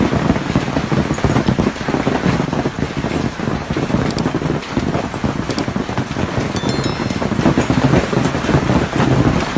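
Heavy hailstones pour down without letup in a dense, loud, steady roar of impacts, with wind buffeting the microphone throughout; tourists shelter under a roof nearby.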